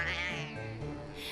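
A cat that loves going outside gives one drawn-out, whiny meow, close and loud, rising then falling.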